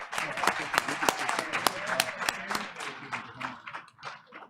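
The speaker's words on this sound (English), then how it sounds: "Let's give a big round of applause to Group 1." Scattered clapping from a modest audience at a board of education meeting applauding Group 1, individual hand claps distinct and uneven before tapering off, with voices talking over it.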